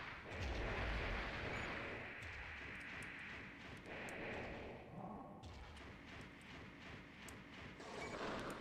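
Missiles fired by Nineball in the Armored Core video game, heavy booming thuds and rumbling blasts rolling one after another, loud and dense across the whole stretch with a few sharper cracks.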